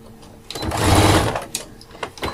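A sewing machine stitches a backpack seam in one short, close whirring run that swells and then stops, followed by a few light clicks.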